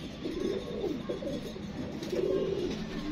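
Pigeons coo in soft, repeated low murmuring phrases, close and steady, with no talk over them.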